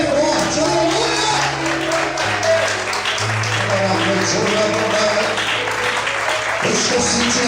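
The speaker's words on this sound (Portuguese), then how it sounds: "glorifique e aplauda o Senhor bem forte" A church congregation claps loudly and continuously during a worship service, with sustained organ or keyboard tones and scattered shouts beneath the dense applause.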